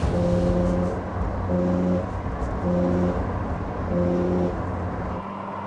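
Engine of a sports car, a Ferrari or Porsche on a road test, holding a steady droning note with a rhythmic pulsing in its tone about once a second, loud and continuous throughout.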